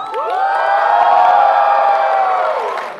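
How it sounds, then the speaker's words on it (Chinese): A Chinese crosstalk (xiangsheng) comedy audience greets performers with loud, sustained cheering and whooping, a dense crowd roar with high shouts rising over it that holds steady, then fades at the end. "我们哥俩一上来这个欢呼声啊，比别人少了好长时间呀"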